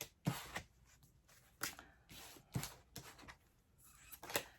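Tarot cards being shuffled by hand: a series of soft riffling bursts and light taps, about six close, quiet flurries separated by brief pauses.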